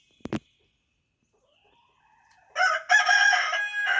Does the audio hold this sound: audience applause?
no